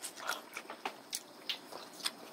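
Someone eats a boiled wild mussel with soft, close, irregular bites and chewing crunches, a few wet clicks spaced through a quiet background.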